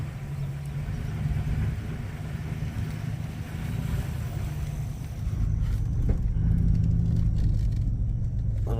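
A car rolls slowly into a riverside camping area, its engine a low, steady rumble close by that swells slightly partway through, with no talking.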